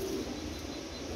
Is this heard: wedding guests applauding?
no